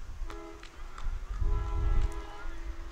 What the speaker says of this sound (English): get a feature from another train passing by. It's again right by the Long Island Railroad here.